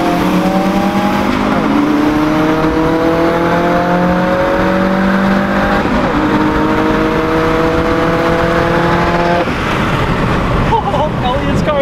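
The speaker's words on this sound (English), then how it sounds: "Stage 2 WRX versus Focus RS" A Stage 2 Subaru WRX races a Ford Focus RS, both 2016 models, with engines revving hard through several rising gear pulls and shifts, loud and sustained road and engine roar.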